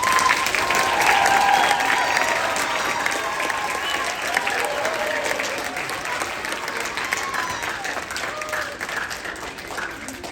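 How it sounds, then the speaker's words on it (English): Sustained applause from a sizable school audience, steady and full for the whole stretch, tapering slightly toward the end. "Round of applause."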